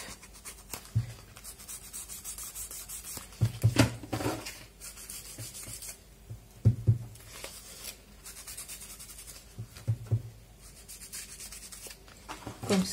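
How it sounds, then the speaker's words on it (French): Ink applicator rubbed along paper edges in an art journal, giving soft repeated scuffing strokes with small taps, close and fairly quiet, with no talking. "je vais prendre mon encre coffee et je vais foncer mes bords"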